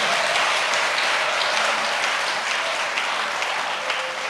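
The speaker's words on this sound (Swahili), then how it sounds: "pigie Bwana Yesu makofi ya maana" A church congregation applauding for Jesus during a sermon, dense sustained clapping from many hands filling the room, steady from start to finish with no talking over it.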